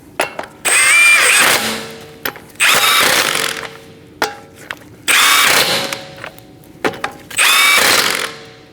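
On a 2013-2019 Cadillac ATS front wheel, a power tool tightens the lug nuts in four loud, separate whirring bursts, each ending in a ratcheting rattle, with short quiet gaps and light clicks between them.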